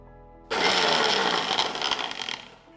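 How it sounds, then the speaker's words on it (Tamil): A mixer grinder blends soaked hibiscus leaves with lemon juice into a paste, switching on abruptly and whirring loudly and steadily for about two seconds before easing off. "அந்த ஜூஸோட அந்த செம்பருத்தி இலையையும் நம்ம இப்போ நல்லா பேஸ்ட் மாதிரி எடுத்து அரைச்சிக்கணும்"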